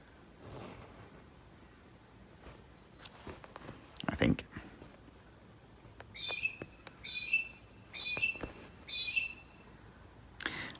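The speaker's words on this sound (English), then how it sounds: "And that one, bird, if you just heard that one, is a peewee." A peewee, or magpie-lark, gives four repeated clear whistled calls in a steady run after a few scattered soft knocks and rustles, fairly close and standing out over a quiet background.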